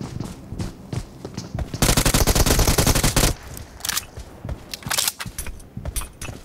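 Gunfire in the BGMI (PUBG Mobile) game: a dense, loud burst of automatic fire lasting over a second, surrounded by scattered single shots and quieter in-game noise.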